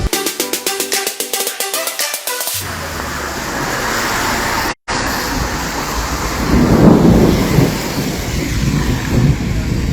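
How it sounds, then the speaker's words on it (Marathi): Unseasonal summer thunderstorm at Amboli with rumbling thunder and steady rain, loud and continuous, with a swell of heavier rumbling partway through. "मग विजांचा गडगडाट"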